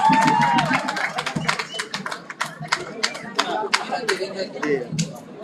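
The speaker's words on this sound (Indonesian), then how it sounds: "boleh meminta tepuk tangan yang paling meriah untuk Lantang Bagia Run Race" Crowd applause at the Lantang Bangngia Run Race in Makassar, rapid clapping with scattered whoops that rises and fades in bursts while an announcer speaks over it.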